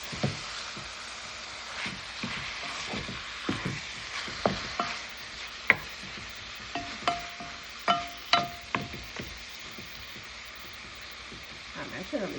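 Chicken frying in a pot for Jamaican curry, a soft steady sizzle with scattered pops and crackles and occasional utensil clinks, fairly quiet and heard alone.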